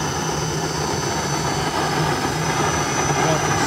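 A high-temperature casting burner fires steadily with a constant, loud roaring hiss and no breaks, while someone talks over it.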